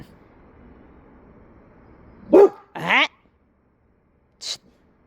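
A livestock guardian dog lets out three short, sharp barks close by after a quiet stretch of faint background hum, the last bark higher and yappier.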